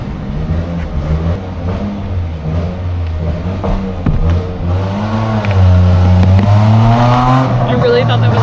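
A small truck engine revs on the street, a loud continuous motor drone with rising pitch swells and a louder surge in the last few seconds, with people talking over it.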